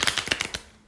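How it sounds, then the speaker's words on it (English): A deck of cards is shuffled close by, a quick run of about five or six sharp riffling bursts in under a second that then fades out, with no voices. "Let me get a good shuffle here"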